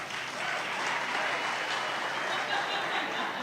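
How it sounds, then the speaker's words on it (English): A crowd applauds steadily at a 2018 California District 1 congressional candidate forum, a dense, even wash of clapping heard from a distance at low volume. "this would be the last clapping"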